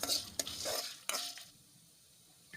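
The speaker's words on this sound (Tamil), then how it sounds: "பட்டை மிளகு சோம்பு சீரகம் நல்லா போட்டு நல்லா வதக்கி விடுங்க" Whole spices — cinnamon, pepper, fennel and cumin — frying in a pan for a country chicken curry, giving stirring scrapes and a soft sizzle that fades to quiet after the first second and a half.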